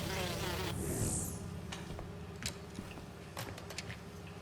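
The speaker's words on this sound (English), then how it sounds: "Ultra-light drones using the new battery tech for crop monitoring." Ultra-light crop-monitoring drones in Marvel's Spider-Man 2 give off a steady, insect-like buzz that hums continuously and fairly loud, with a few faint clicks and taps over it.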